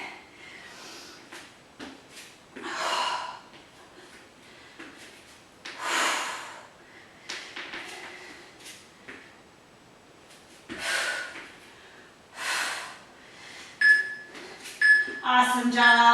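Heavy, forceful breaths puff in and out repeatedly during a Pilates exercise, close to the microphone, in an irregular rhythm with louder bursts every few seconds, with faint music or clatter near the end.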